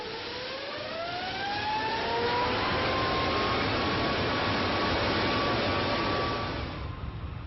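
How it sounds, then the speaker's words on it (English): Jet aircraft engine run to full power during a blade-off failure test, heard from inside a building about 200 yards away: a loud roar with a rising whine that sweeps upward and holds before easing off. "at last, the throttles are opened and the engine brought to its full,"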